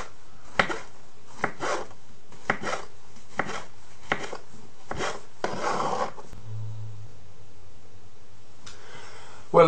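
A knife slices steadily through mushrooms on a board, about nine crisp, evenly spaced strokes close by, then a brief pause and a faint scrape.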